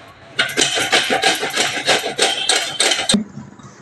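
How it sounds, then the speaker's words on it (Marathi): Tender bottle gourd rubbed against a grater, a rhythmic series of close, coarse scraping strokes about five per second that ends abruptly. "हा दुधी कोवळा आहे, चांगला किसून घेऊया."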